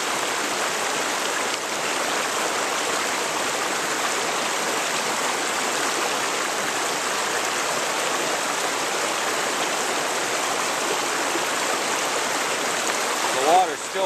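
Stream water rushes steadily over an elevated trap, a loud, continuous broadband roar that holds even for the whole stretch with only a slight shift near the end.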